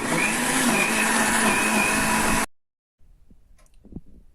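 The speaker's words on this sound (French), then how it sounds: "Vous voyez, là, je vais mixer sans liquide." A blender whirs loudly, mixing mango, lemon and peeled turmeric without any liquid. The steady motor runs for a couple of seconds, then cuts off abruptly and leaves faint clinks and handling sounds.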